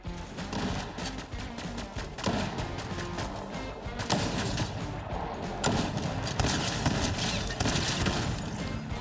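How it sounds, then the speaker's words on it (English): Bursts of gunfire in a first-person shooter video game, with rapid, loud volleys of shots and thuds that keep going nearly nonstop. "We got shooting up here"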